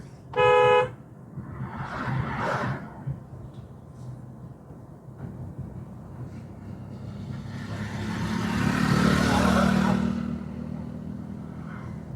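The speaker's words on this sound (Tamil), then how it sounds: "முடிஞ்சா ஒரு தடவை ஹாரன்" A single short car horn honk sounds near the start during a driving lesson, followed by steady engine and road noise as traffic passes.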